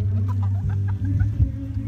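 A chicken clucks in short repeated bursts, fairly close and steady throughout, with farmyard background noise and no talk.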